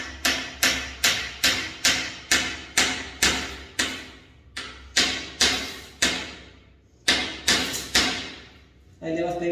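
Steady hammer blows drive a nail into a wooden kitchen cupboard, about fifteen sharp close knocks in an even rhythm with a short pause before the last few, each ringing briefly in the wood.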